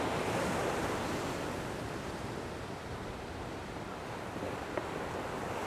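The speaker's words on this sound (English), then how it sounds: "the backwash pulls all the rocks all over top of each other, and they make this noise" Steady broadband wash of surf at Sharpes Beach, with backwash dragging rocks over one another as the water retreats; a continuous rumbling hiss with no talk and one faint click near the end.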